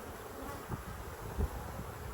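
Honey bees buzz at an open hive frame as a steady, fairly faint drone with a few brief louder passes close by. Nobody speaks.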